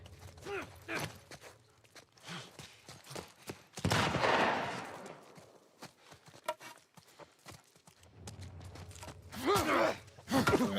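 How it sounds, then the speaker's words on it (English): Shotgun fire in The Last of Us Part I: one loud, broad blast in the middle, followed by clattering, mechanical clicks and scattered thumps, with a voice talking briefly. "Shotgun!"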